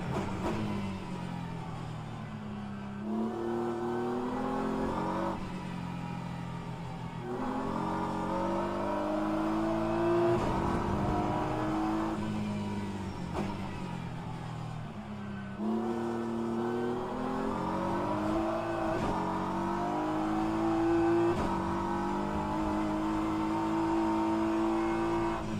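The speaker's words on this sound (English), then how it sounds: "You already hear how lazy the BMW is up the hill." A BMW race car in rFactor 2 labours uphill at Interlagos, its engine droning and climbing slowly through repeated gear pulls, each rise cut by a brief shift. The sound is steady, close and loud, with no talking over it.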